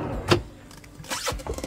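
A second drawer sliding open in the kitchen unit of an Ecocampers Multistyle camper van: a sharp thump at the start, then a longer smooth rolling slide with a faint rattle near the end, close and moderately loud.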